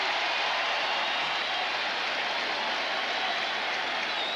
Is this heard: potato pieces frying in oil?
no